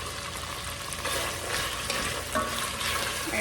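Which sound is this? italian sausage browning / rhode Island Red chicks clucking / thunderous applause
italian sausage browning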